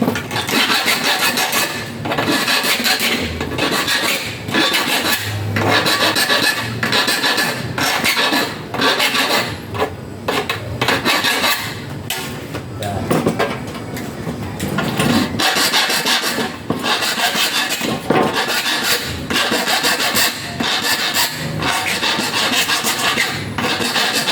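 A hand file rasping back and forth along a sliding window frame, close and loud, in steady repeated strokes that continue without pause for over twenty seconds.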